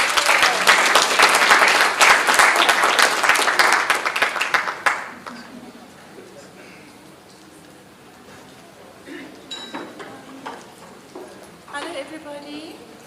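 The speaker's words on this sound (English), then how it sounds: "let's give a big round of applause to Professor Powell." At an academic research colloquium, an audience applauds a speaker with loud, dense clapping for about five seconds, then it fades to quieter room noise with scattered sounds and some talking.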